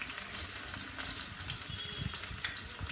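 Onions fry in a pan for a plantain-flower usili, giving a continuous, fairly soft crackling sizzle close by, with no voices.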